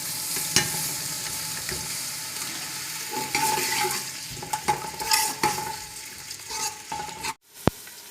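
Chopped onions fry in hot oil for a desi-style sarson ka saag, giving a steady close sizzle with scraping stirs, spoon knocks against the pan, and a final sharp clink after a short pause.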